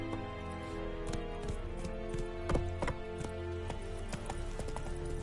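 Horse hooves galloping in The Witcher 3, a quick rhythmic clip-clop at moderate distance with a couple of heavier thuds, no talk.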